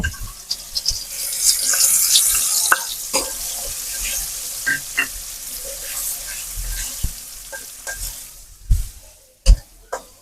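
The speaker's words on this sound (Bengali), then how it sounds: "তারপরে এই তেলের মধ্যে আমরা সেই মশলার পেস্টটা দিয়ে দিব" Spice paste frying in soybean oil while being stirred, a sizzle that swells then breaks into scattered scrapes and knocks of the spoon against the pan, close by, with occasional louder clatters near the end.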